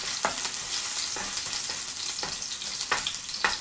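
Cauliflower sizzles and fries loudly in a pan, a steady close crackle broken by a few sharp scraping stirs.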